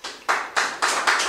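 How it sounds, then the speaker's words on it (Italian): An audience clapping at the inauguration of a new recording studio, a short burst of close, loud applause arriving in several swelling surges. "Umberto Sanselmo, un applauso."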